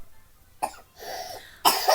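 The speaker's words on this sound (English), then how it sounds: "Excuse my baby in the background for coughing" A baby gives two short coughs, one midway and a sharper, louder one near the end, fairly close with a quiet gap before them.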